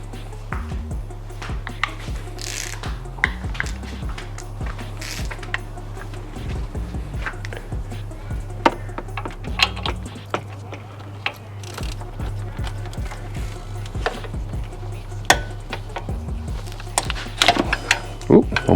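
Ratcheting socket wrench with a 5/8 socket working a pulley bolt on a Ford Explorer 5.0L engine during a serpentine belt job, repeated clicks and clunks under a steady mechanical hum, with someone talking throughout.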